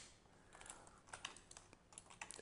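Soft, quick keystrokes on a computer keyboard enter shortcuts in CAD modelling software, with short irregular bursts of quiet clicking and no talking.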